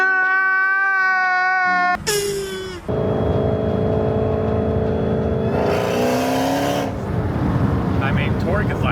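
A Dodge Hellcat V8 fitted with a Formula Z exhaust pipe revs loudly in sharp, rising bursts, a short throttle blip followed by a sustained high-pitched climb and fall, with people talking over it.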